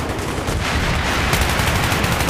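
Sustained automatic gunfire from a helicopter's door gunner in Battlefield 3 multiplayer on Sharqi Peninsula: a dense, loud, continuous roar of rapid shots with no pauses and no voices.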